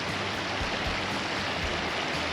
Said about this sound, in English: See how the water's going down the drain?